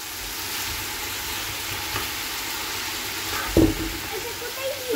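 Food sizzles steadily in a pan during home cooking of a fish curry, a constant close frying hiss with one brief knock of a utensil.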